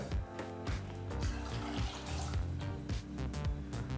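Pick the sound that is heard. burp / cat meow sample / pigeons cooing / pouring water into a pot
pouring water into a pot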